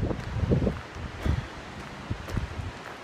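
Wind gusting across an exposed coastal footpath on a sunny day, a soft steady rush with a few louder buffeting bursts against the microphone, no talking.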